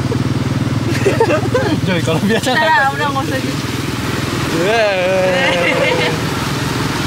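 A motorized pedicab (becak motor) engine idles and runs steadily with a constant mid-pitched drone, close by, while people chat over it.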